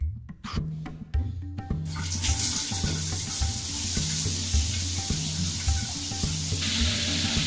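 Shower water starts running after a couple of seconds of quiet clicks and becomes a steady, fairly loud rushing hiss, with a rhythmic music beat audible underneath.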